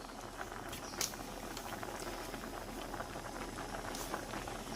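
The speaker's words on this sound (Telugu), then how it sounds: "ఇప్పుడు పొంగు వస్తుంది కదా అన్నం మెత్తగా ఉడికిపోయింది" A pot of rice boils hard on the stove, a steady bubbling patter with occasional louder pops, close and continuous with no talk.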